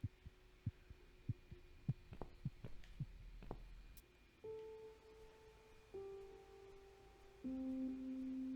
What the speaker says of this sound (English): The heart beating is pretty unnerving.